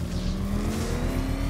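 Engine of a car in the Batman Arkham Knight video game revving hard and accelerating, a loud steady roar with a rising pitch throughout, no talk over it.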